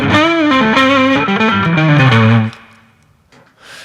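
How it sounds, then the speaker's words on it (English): Electric guitar runs through a distortion amp effect in Ableton, a loud sustained chord line with gritty harmonics shifting pitch for a few seconds before cutting off into a short decaying tail and near silence. "we have some distortion sounds in this rack"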